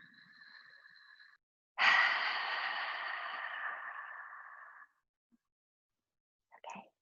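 A slow, deep exhale through the mouth rushes out for about three seconds during a gentle yoga breathing exercise, close and breathy, preceded by a soft nasal inhale, with a faint rustle afterward.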